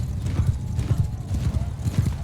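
Galloping horse hooves in the Mount & Blade II: Bannerlord battle beat out a fast, heavy, evenly spaced thudding close by, with a whinny mixed in and battle noise going on underneath.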